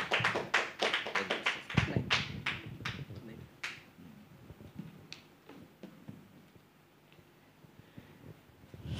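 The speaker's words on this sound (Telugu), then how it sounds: "వారు వచ్చి చుండగా చప్పట్లు కొట్టి వారిని ఆహ్వానిద్దామని." Church congregation at a Sunday gathering clapping to welcome a speaker: a dense burst of close hand claps that thins into scattered, fading claps over several seconds.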